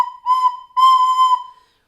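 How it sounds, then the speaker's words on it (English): Recorder blown loosely without tonguing, giving two breathy, wavering held notes with a slight pitch wobble and a short gap between them, heard alone and fairly loud. "If you don't do the t, t action with your tongue and just blow randomly, you'll get a sound more like this"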